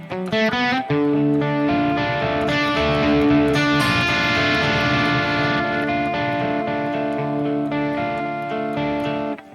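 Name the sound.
electric guitar through Harley Benton DNAfx GiT Pro with distortion turned off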